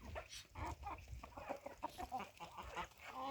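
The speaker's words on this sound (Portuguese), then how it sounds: "o galo maior da Paraíba, ó." A rooster at a São Pedro bonfire gathering in Paraíba clucks and calls in short repeated bursts, close and fairly loud, with some background voices.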